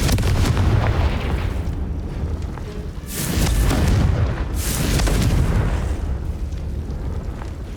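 Two Confringo spell explosions in the Hogwarts Legacy game on Switch boom out over a constant low rumble, each a sharp, loud burst about a second and a half apart that rolls away into the din, with no speech.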